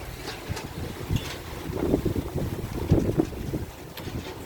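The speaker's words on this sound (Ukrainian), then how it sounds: "Вітер посильніший." Strong wind gusts buffet the microphone during rain, a rough, rumbling roar that swells and eases in uneven bursts.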